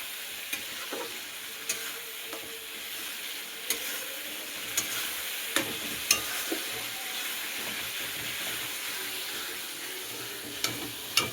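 Masala slowly stir-fried in oil keeps up a gentle, continuous sizzle, broken by scattered sharp clicks and scrapes of a spoon against the pan at close range.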